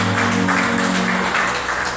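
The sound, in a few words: congregation clapping for the Lord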